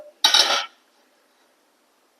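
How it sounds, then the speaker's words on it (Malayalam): A single brief metallic clatter as a lid is lifted off a pot of bitter gourd fish curry, then near silence. "നമ്മുടെ കറി ഒന്ന് തുറന്നു നോക്കാം"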